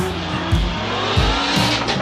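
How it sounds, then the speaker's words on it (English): A drift car slides across a track on three wheels, its tires squealing in repeated loud bursts over a roaring engine, heard close and continuous with no talk. "I try to just make it across the track and complete the course drifting"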